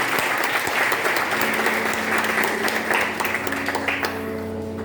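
A church congregation applauding during a worship service, with dense, loud, steady clapping close by and faint musical tones underneath, the applause thinning slightly toward the end.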